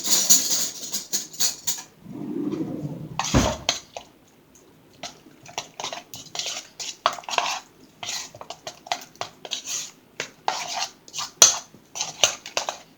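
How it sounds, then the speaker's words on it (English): Two eggs are cracked into a bowl and whisked for breakfast ramen: a soft crack and squishy drip, then rapid irregular clicks of a utensil against the bowl, close and clear. "You're going to crack your 2 eggs. You're going to mix that up."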